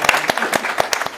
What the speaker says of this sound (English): let's give ourselves another round of applause as well